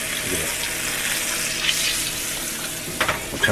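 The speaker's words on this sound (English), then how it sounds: "some fried steak, put it nice and crispy." Country fried steak crisps in a pan with a strong, steady sizzle close by, and a few sharp pops and clatters near the end; no talking.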